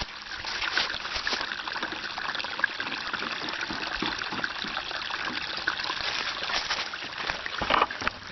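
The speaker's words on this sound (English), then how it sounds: "Nature's running water faucet right here." Natural running water trickles and gushes steadily from an outdoor spring source while filling containers at an off-grid RV, a continuous close splashing flow with no talk.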